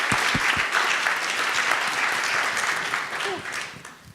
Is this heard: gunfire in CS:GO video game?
no